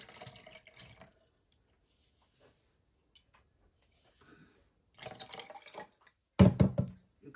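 Soft clinks and light rustling near a sink lead into a short burst of water splashing as a cup of water is poured into a pot, close and fairly loud.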